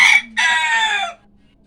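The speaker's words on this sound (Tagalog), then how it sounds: "Papatuka muna ako ng manok" A chicken calls out loudly nearby in two quick bursts, a short squawk followed by a longer drawn-out cry, then quiet.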